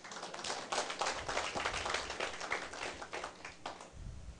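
An audience claps through a lecture hall at a seminar in Taiwan, with dense, sustained applause from many hands and no one talking over it.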